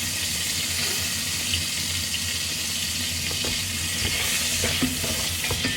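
Onions sizzle steadily in a pan, a constant close frying hiss broken by occasional stirring scrapes toward the end. No one speaks.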